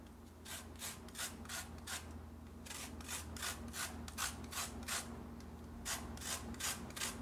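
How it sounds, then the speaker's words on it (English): A lemon is grated for zest over cooked mussels, producing quiet, rhythmic rasping strokes in a steady back-and-forth pattern close by, without speech. "a little lemon zest. We're just going to kind of grate some over the top."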